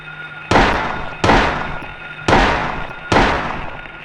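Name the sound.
gunshots in Silent Hill video game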